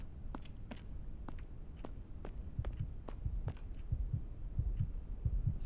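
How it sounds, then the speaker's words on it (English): Heartbeat in the horror video game The Other Side, a steady low thumping pulse repeating at an even rhythm, quiet and close, with faint clicks and soft hum around it and no talk. "My heartbeat tells me that there's a shadow event coming on"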